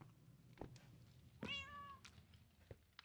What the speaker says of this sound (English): Why am I hearing cat noises?